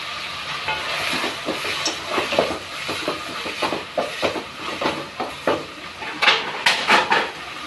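Curry leaves fry in a pan for chicken gravy, a close sizzle broken by rhythmic scrapes and clinks of stirring against the metal, with no talk.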